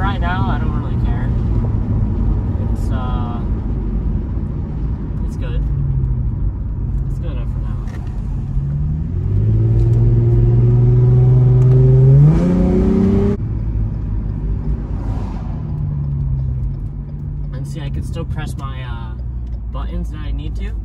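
Steady low engine and road drone from a Lexus car cruising at about 40 mph, with a brief rise in engine pitch midway, heard from inside the cabin under continuous talking.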